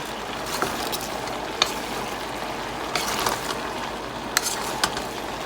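Cabbage being stirred into chopsuey vegetables in a pan, soft scraping and rustling over a low steady sizzle, with a few sharper clinks of the utensil against the pan.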